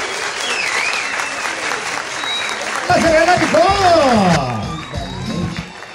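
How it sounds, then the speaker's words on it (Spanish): Crowd at a Children's Month celebration in Capitanejo applauds loudly, with cheering, whoops and children shouting mixed in, swelling midway then easing off, while voices carry over the noise. "Y yo quiero que ustedes lo califiquen con aplausos."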